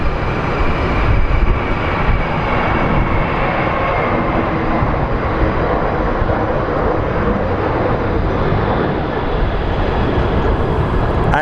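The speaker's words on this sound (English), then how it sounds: "that is the Delta Connect Embraer 175 that is headed to Los Angeles" A Delta Connection Embraer 175 airliner takes off at Phoenix Sky Harbor International Airport, a loud, steady jet engine roar filling the air without pause for the whole stretch.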